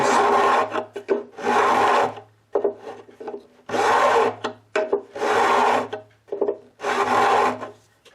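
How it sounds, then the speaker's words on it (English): A metal file glued to a wooden block is pushed back and forth over the frets of a classical guitar, giving six loud, close rasping strokes of about a second each with short pauses between them. "I will use this other file that I have glued to a block of wood because it's easier to grab. And just go back and forth a few times."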